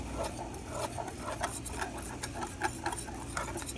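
A whisk scrapes and taps around a bowl of au jus gravy mixed with soy sauce, a quick, steady, close rhythm of rubbing and light metallic clicks.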